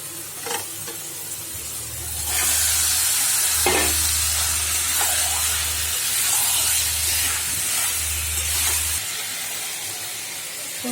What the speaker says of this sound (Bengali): মশলাটা কষা হয়ে গেছে এবার চিকেনটা দিয়ে দেবো